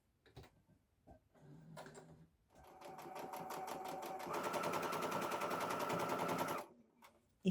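A sewing machine stitches across a jeans pocket in short bursts, then runs a steady, rapid, close mechanical clatter that grows louder before stopping, with faint handling clicks around it.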